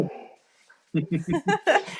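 A pet pit bull makes a short, low vocal sound at the start, followed by a person talking close by.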